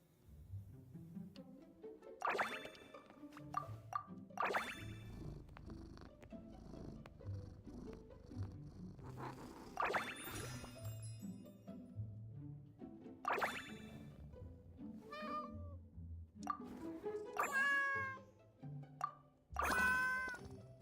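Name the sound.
cat purring and meowing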